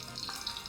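Mushrooms fry in a pan with a soft, continuous sizzle, faint and brief with no talk.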